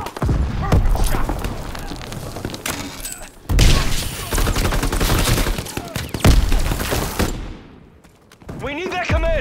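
Gunfire in Call of Duty WWII, loud bursts of rifle and machine-gun fire mixed with booms and thuds, running almost continuously through the scene, with shouted voices in the game.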